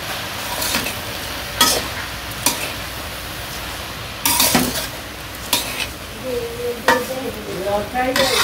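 Vegetables with salt, turmeric and chili powder sizzle steadily in a pan, with clinks and scrapes from a spoon being stirred against the metal. The frying is close and of moderate loudness in a village kitchen, and there is no speech.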